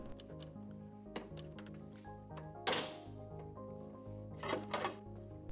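A push nut is pried up with a screwdriver during powertrain removal on a DF Goblin kit car, giving several light metallic taps and clicks and one sharper scraping pop, close and alone, with no voices.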